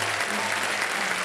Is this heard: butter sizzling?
no